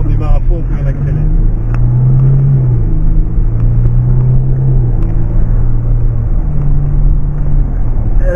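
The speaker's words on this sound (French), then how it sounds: "On démarre à fond, on peut l'accélérer." Jaguar F-Pace SUV accelerating hard from a standing start at full throttle, heard from inside the cabin as a steady, loud low engine drone with rising pitch, while a voice talks over it.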